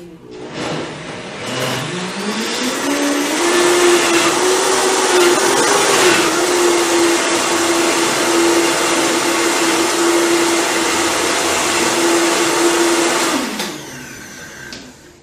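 Blender whirring avocado with a little liquid into a creamy smoothie base, spinning up with a rising whine, running loud and steady for about ten seconds, then cutting off.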